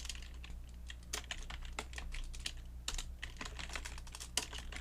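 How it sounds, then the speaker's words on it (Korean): Someone edits text in DaVinci Resolve on a computer keyboard, with repeated keystrokes, including backspace presses, forming a quiet, irregular patter of close clicks over a faint background hum. "백스페이스 키를 눌러서 글자 내용을 지운 다음에"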